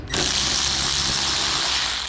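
Ratchet wrench loosening M10 bolts on the upper cover of a 2006 Suzuki DF2.5 four-stroke outboard, a rapid close clicking rattle that runs continuously for about two seconds with no talk.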